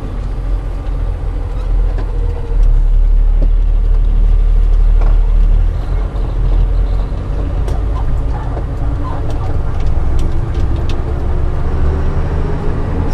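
A semi-trailer truck pulls away outside a roadside repair shop and spring workshop, its engine giving a steady, close, low rumble with continuous road noise throughout and no clear talk.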